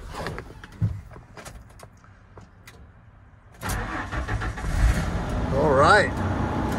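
A 1994 Ford F-250 truck with the 4.9L six cranks quietly for a few seconds, then catches and starts, settling into a steady nearby idle while a person talks over it.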